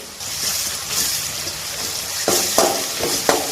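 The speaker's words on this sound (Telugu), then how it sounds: "రెండు స్పూన్ల వరకు అల్లం వెల్లుల్లి పేస్ట్ వేస్తున్నాను" Ginger garlic paste fries and sizzles in a pan while a spoon stirs it, a steady close hiss broken late by several sharp scraping strokes against the pan, with no voices.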